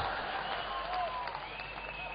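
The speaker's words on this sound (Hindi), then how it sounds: "आप ताली वाली बजाते रहना, ये सब ताली से चलने वाले खिलौने हैं।" Audience applause fills a Hindi comedy poetry gathering, a hasya kavi sammelan, as a steady wash of clapping from a crowd, with a voice talking faintly through it.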